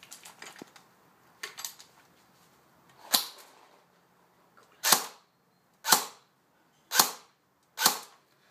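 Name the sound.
airsoft AK rifle firing semi-automatic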